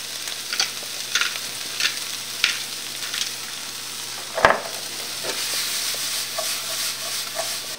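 Onions sauté in a pan with salt and pepper, crackling in a continuous sizzle broken by several sharp scrapes and taps of a utensil stirring against the pan.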